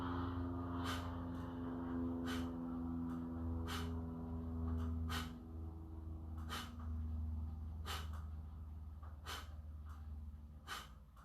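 Pulse breathing exercise, a rapid train of forceful, evenly spaced nasal exhalations puffing out in rhythm over a low droning background hum, close and steady with no talking.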